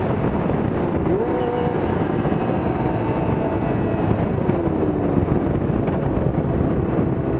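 A Kawasaki ZX-2R (ZXR250) motorcycle revs high while being ridden around Hobart, a steady loud engine drone mixed with constant wind rush and no talking.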